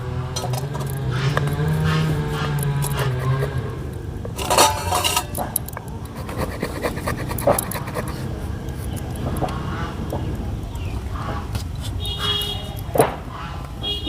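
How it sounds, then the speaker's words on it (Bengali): Potatoes being cut into even cubes on a board in a home kitchen, a run of knife taps and clinks of utensils and dishes, close and fairly loud, with background rumble and occasional sharper knocks. "আলুটা কেটে নিচ্ছি"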